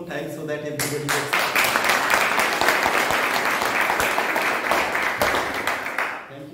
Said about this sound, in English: Let's clap one more time so that everybody gets.